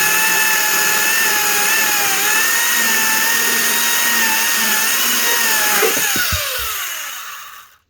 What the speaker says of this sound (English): See if the electric chainsaw is going to work